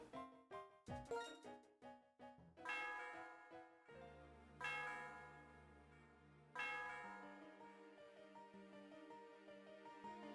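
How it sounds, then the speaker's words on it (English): Celestial Tower bell in Pokémon Black 2, ringing out as a series of clear chiming tones in a quick melodic run, followed by long, sustained, reverberating bell strikes with a resonant ring, heard alone. "The sound of the bell reverberates through the area."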